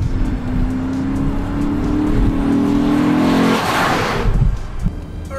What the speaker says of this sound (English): Piling out of pit lane in the 2015 Lexus RCF.